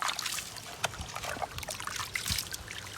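Water trickles and splashes over toy cars in a few short, faint pours with small drips, close up and with no talk.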